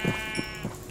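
Sheep bleating on a farm in the Minecraft video game: three short, nasal bleats spaced about evenly over under a second, close and fairly loud, with a faint steady tone beneath.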